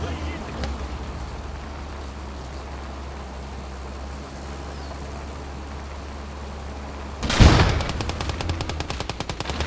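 In a video game, an anti-tank rifle fires a single loud, sharp blast near the end. Other gunfire rattles on in the background, with engine rumble and faint chatter running underneath.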